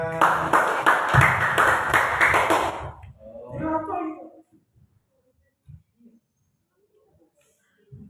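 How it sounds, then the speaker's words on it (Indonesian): Audience applause fills the opening three seconds at an Islamic boarding school training opening ceremony, dense and fairly loud, then trails off into murmuring voices and scattered faint knocks. "Tepuk tangan."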